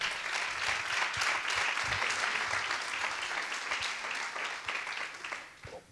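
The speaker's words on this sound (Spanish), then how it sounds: "Un aplauso." Audience applause at the close of a motivational talk, sustained dense clapping at a steady level for about six seconds, fading slightly at the end with no talk over it.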